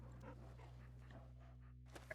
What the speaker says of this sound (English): Hello, large dog.